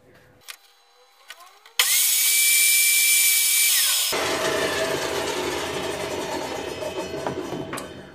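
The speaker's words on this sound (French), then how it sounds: "je vais m'aider de ma scie de table avec la scie qui dépasse de 4 mm" A loud table saw cuts through wood in one sustained pass, high-pitched whine and rough grinding, then the blade spins down with a rattling rumble, while making a cigar box resonator ukulele.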